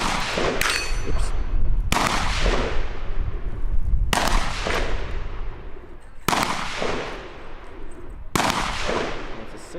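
Ruger Wrangler .22 LR revolver fires five sharp, loud shots spaced about two seconds apart, each with a quick decaying ring, with no talk between them.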